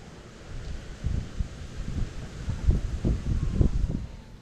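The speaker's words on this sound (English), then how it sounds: "the way that wind is gusting in here on this side of the cooker" Gusty wind buffets outdoors beside a smoker cooker, a low rumbling roar that swells in repeated gusts, steady and close with no voices.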